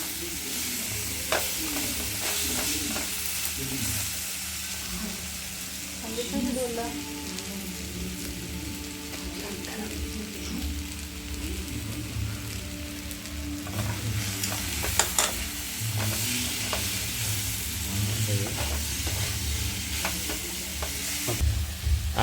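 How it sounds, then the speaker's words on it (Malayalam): Banana pieces frying in ghee while being stirred for a sweet dessert, a constant close sizzle with intermittent spoon scrapes and clatter, and brief quiet talking in places. "നെയ്യിലിങ്ങനെ കിടന്നത് മൂത്ത് വരികയാണ്"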